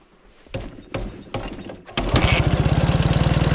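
A Dnepr MT11 motorcycle with no muffler is kicked over a few times, then fires up into a loud, raw, rapid popping idle at close range.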